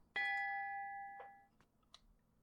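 A bell rung by a bell pull in a Sherlock Holmes video game gives one clear metallic ding that rings out and slowly decays over about a second, followed by a few faint knocks in an otherwise quiet room.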